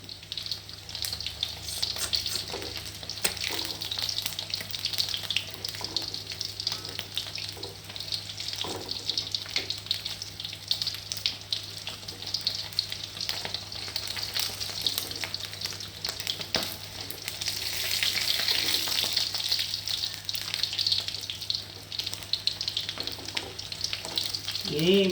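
Chicken skin fries in a pan to render chicken oil, giving a steady hissing sizzle and crackle that holds throughout, with occasional stirring and pressing noises.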